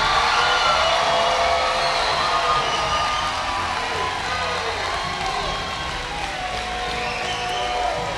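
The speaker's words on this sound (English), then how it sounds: "Go ahead and clap it up for them." An audience at a class of 2019 graduation ceremony claps and cheers in a loud, dense wall of applause, whoops and shouts that holds steady throughout.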